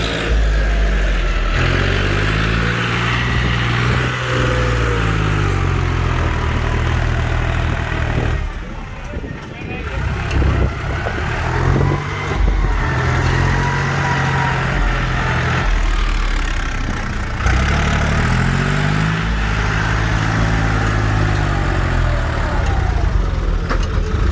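A John Deere 5055E tractor with a 55-horsepower three-cylinder turbo engine runs loud and close at a steady idle with a throbbing low hum, rising slightly now and then, while people talk over it.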